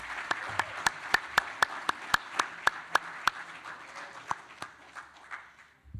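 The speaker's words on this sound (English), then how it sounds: "Let's give another round of applause to Luis." Applause from an audience at a diversity and equity talk for speaker Luis Ponjuan, heard as a run of sharp, evenly spaced claps over a softer clapping bed that thins out toward the end.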